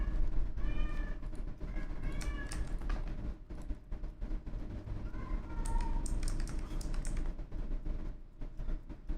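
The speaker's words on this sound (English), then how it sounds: "One of the cats is going crazy." Several house cats meowing repeatedly in short, insistent calls over a steady background hum and scattered keyboard typing.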